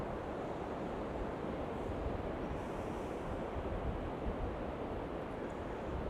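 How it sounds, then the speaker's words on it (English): Sea waves and tide wash continuously onto the beach at Sutton on Sea, a dense, steady roar mixed with heavy wind buffeting the microphone, with no voices. "See a lot of wind noise, a lot of tide noise, which is to be expected"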